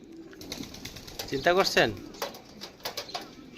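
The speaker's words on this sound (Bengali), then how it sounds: "সবগুলো কবুতর এখানে বসে রয়েছে" Pigeons sit in a hot loft, with soft cooing and brief wing flutters under a man's close speech, plus a short burst of louder calls midway.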